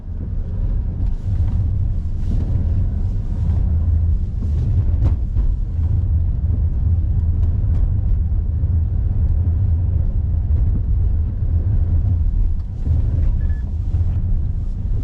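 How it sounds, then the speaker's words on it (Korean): Toyota Crown 2.4 Dual Boost Hybrid driven briskly in sport mode, a continuous loud low road and engine rumble with wind buffeting and occasional thumps from the road, no voices. "제가 이 스포츠 모드로 잠깐 변환을 해서 이렇게 달려보면"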